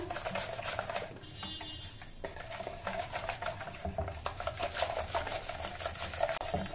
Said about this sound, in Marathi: आता आपण हे छान मिक्स करून घेऊ